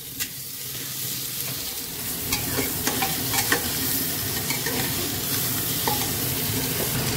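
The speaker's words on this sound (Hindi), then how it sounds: "आज पॉर्क जो है विदाउट ऑयल बनाऊंगा। ये कुकर गर्म हो चुका है, आज इसमें बिल्कुल ऑयल नहीं पड़ेगा।" Pork pieces fry without oil in a hot pressure cooker, sizzling loudly and steadily close by, with scattered pops and the scrape of stirring.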